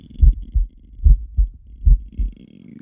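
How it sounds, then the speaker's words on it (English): A heart beats in a steady lub-dub rhythm, three double thumps, low, close and loud, with no one talking. "What's your heart beating for?"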